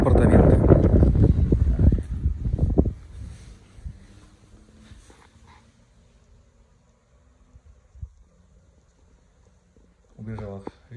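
Strong wind buffets the microphone outdoors at two-storey apartments with a garden in Bordighera, Liguria, Italy, a loud, rough rumble for a few seconds, then dies away to near quiet before a short burst of voice.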